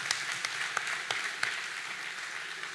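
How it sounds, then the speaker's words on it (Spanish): Congregation clapping during a church service, a sustained round of steady applause with a few sharper individual claps standing out, moderately loud in a reverberant room. "damos un aplauso fuerte al Señor que prometió estar en medio nuestro"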